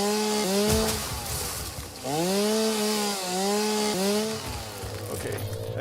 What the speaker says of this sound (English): I think I've had enough of this chainsaw sound